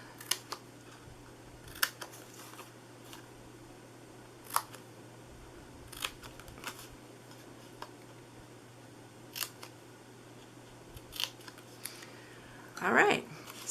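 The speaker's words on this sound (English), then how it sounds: "So let me cut into this top flap that's folding in because that helps" Scissors snipping into a paper Christmas tree treat box, with a handful of distinct, well-spaced crisp cuts close by over a faint steady hum and a brief rustle at the very end.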